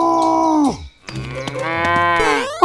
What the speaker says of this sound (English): This cow is moving towards Elsa's house